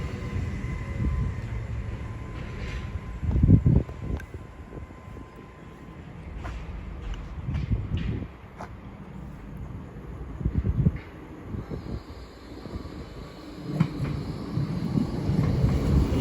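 Great Western Railway unit 802102 moves through Didcot Parkway toward Oxford, its low rumble rising and falling under gusts of wind noise, with scattered knocks and a few louder surges.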